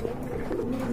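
Aggressive, active pigeons of Andalusian bloodline coo steadily and close, a continuous low throaty rumble filling the whole moment without talk.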